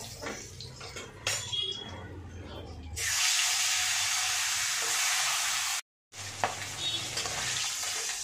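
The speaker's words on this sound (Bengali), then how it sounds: "এইভাবে আমি বাকি মাছগুলোও ভেজে নেব।" Fish pieces frying in hot oil in a pan while cooking murighonto, a steady broadband sizzle that swells loud from the third second, briefly cuts out, then resumes with scraping and stirring clatter.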